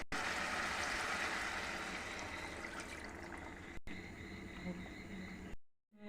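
Water poured from a glass into a pot of chicken curry (Konkani chicken rassa), a steady splashing, gurgling pour that runs close and fairly loud for several seconds, then thins out and stops.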